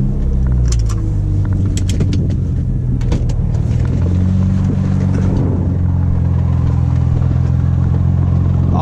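A BMW E46 M3 idles and revs with a loud, close, continuous engine rumble and the loose rattling chatter of its flywheel, with a few light clinks early on.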